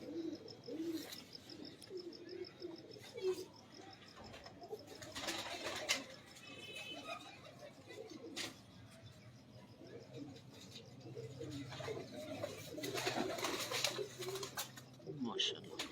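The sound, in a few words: pigeons cooing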